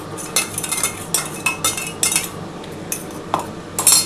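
A metal spoon clinks and scrapes against a pan as poppy seed paste is added for a cauliflower and potato posto. The close, irregular taps and scrapes come in quick clusters, with no talk.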